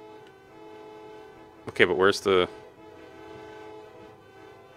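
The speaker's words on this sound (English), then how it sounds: "It sounds like people are honking." Car horns honk in the video game Deltarune, a short burst of two or three loud blasts standing out above steady background music, with a voice talking just before.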